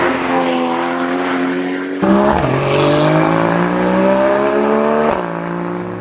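A Porsche Boxster GTS sports car drives past, its engine note sweeping up and down through gear changes, with a sharp shift midway and strong, steady revving that stays loud and close throughout.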